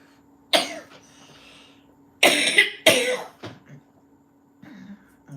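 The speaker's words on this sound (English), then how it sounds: "Let me just get past this coughing." Harsh, bursty coughing fit from one person, several loud hacking coughs in clusters with short gasps and a throat-clearing between them, close to the microphone, with quiet pauses and no talking.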